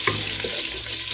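Half a chopped onion fries in a pot as the base for a Nigerian okra soup, a steady hiss of sizzling with a faint stir scraping through it, close and continuous.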